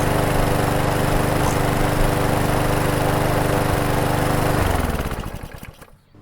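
A lawn mower engine runs steadily at around 3,000 RPM, a loud, close, buzzing drone that holds even, then winds down and cuts off into silence near the end.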